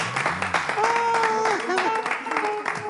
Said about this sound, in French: Est-ce qu'on peut applaudir Tata Bello, s'il vous plaît?